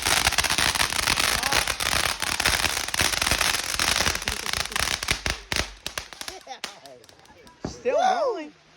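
Firecrackers and fireworks set off by hand pop and crackle in a dense, rapid string of loud bursts, thinning to a few scattered bangs before people talk and exclaim at the end.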